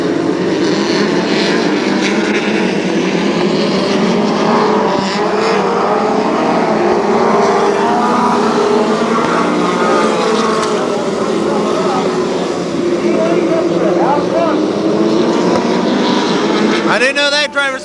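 Pro 4 midget race cars roar around the paved Kil Kare Speedway oval in a continuous loud engine drone, with pitch swells as cars pass, and a voice talks over the noise.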